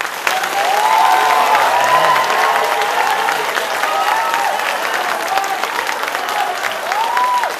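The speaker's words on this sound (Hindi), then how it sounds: "ताली बजाकर हाथ उठाकर सुनें।" A studio audience at a televised Hindi courtroom-style interview show breaks into sustained, loud applause mixed with crowd noise and scattered cheers, steady throughout with no pause.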